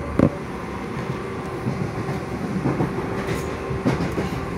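A Southern Class 377 electric multiple unit of about twelve carriages rolls along the rails with a continuous rumbling drone, punctuated by sharp clickety-clack wheel beats over rail joints, heard steadily and fairly close.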